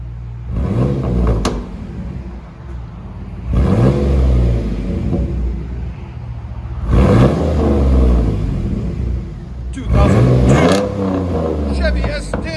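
A 2002 Chevy S10 pickup with a 4.3L V6 and dual straight-pipe exhaust, no mufflers, revs hard in repeated loud, close bursts, dropping back to a rumbling idle between them, with people talking over it.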